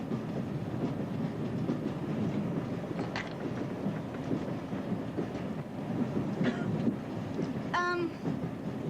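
Railway carriage rolling along the rails, a steady low rumble with faint clicking from the track and a brief high whistle-like squeal near the end, heard from inside the compartment.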